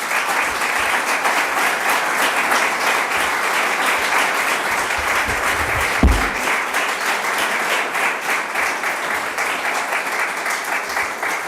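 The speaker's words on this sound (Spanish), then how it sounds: "Os pido, por favor, un aplauso para ellos." Sustained applause from an audience at a public event in Zuera, Aragón, steady and dense throughout, with a brief louder thump midway and no speech.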